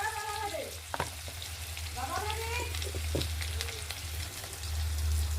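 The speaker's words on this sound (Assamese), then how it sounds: "এইফালে আলু ফ্ৰাই হৈ গ'ল।" Potatoes fry in a pan with a steady, close sizzle throughout, broken by occasional utensil clinks and scraping; a few faint tonal sounds drift in the background, with no talking.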